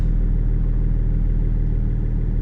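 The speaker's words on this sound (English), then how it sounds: "I can hear the compressor at the back" A Range Rover L322 air suspension compressor runs at the back of the vehicle as a steady, loud low-pitched mechanical drone, continuous and even throughout with no voices.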